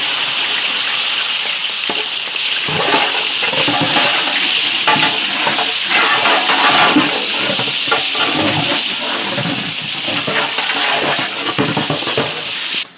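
Onions fry loudly with cinnamon and cloves in hot oil for veg biryani, a dense, steady sizzle and hiss close up, with occasional stirring scrapes throughout.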